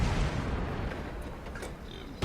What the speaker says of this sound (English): I missed my first shot.